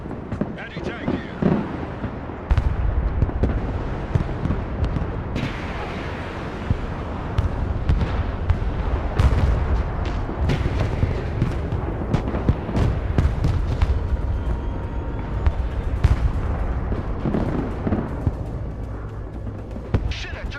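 Flak explosions and artillery fire in a military video game, a dense continuous barrage of booms and cracking blasts, loud and layered throughout, with voices talking over parts of it.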